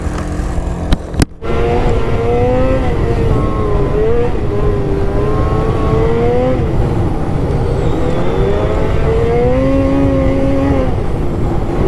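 A MINT 1200 snowmobile engine running with 858 clutching, a loud, steady engine drone that holds throughout, with rising and falling revs as it runs across snow terrain; a brief dropout occurs near the start.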